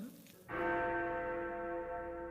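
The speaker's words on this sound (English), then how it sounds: "Oh, the bell." A single deep church bell in an anime episode strikes once and rings on with a long, sustained humming resonance, loud and near.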